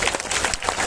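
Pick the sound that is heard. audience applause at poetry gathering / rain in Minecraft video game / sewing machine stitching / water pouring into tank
audience applause at poetry gathering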